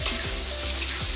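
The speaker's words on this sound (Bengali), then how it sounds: "পেঁয়াজটা খানিকটা ভাজা হয়ে গেছে" Onion fries in hot oil in a pan for chilli chicken gravy, giving a steady, close, dense sizzle with no talking.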